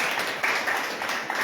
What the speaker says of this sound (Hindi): ताली बजाओ इसके नाम में।